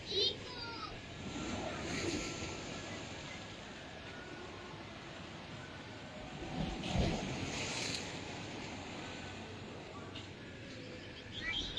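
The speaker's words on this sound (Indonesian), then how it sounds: "Ini ombaknya masih kencang Tribuners." Strong ocean waves break on a coast where storm surf and heavy rain have wrecked the road and seawall, a steady wash of surf with gusty wind buffeting the microphone, swelling briefly louder a few times, with faint voices mixed in.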